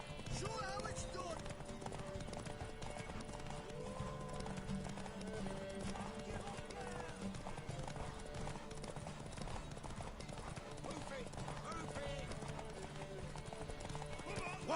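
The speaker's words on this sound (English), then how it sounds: "Want that horse," Horse hooves clip-clop steadily in the Witcher 3 game world, with occasional whinnies beneath game music and ambient sound, some voice audible throughout.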